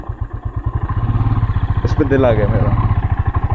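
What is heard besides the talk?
motorcycle engine idling, a tactical bike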